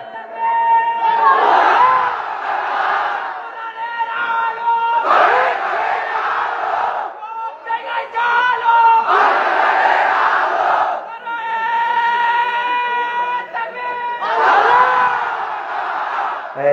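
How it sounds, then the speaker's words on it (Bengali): A large crowd at an open-air Islamic preaching gathering on an Eidgah field shouts takbir in loud repeated bursts, several roaring chants separated by short pauses, answering a leader's call. "আমার সঙ্গে তাকবীর দেন সবাই"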